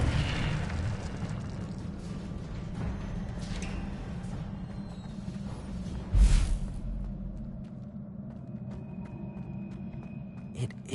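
Incendio fire spell cast in Hogwarts Legacy on PS5 erupts as one sharp, loud fiery burst with a deep thump midway, set against a lower continuous rumble and scattered quieter game sounds.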